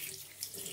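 Tap water runs steadily into a sink during a wet shave, a continuous close splashing hiss with no talk over it.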